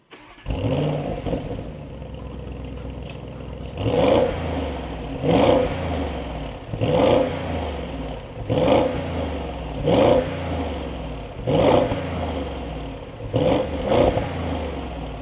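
An Audi SQ7's deep engine idles, then revs sharply about seven times through quad exhaust tips in a steady rhythm, each throttle blip rising and falling with a throaty exhaust note.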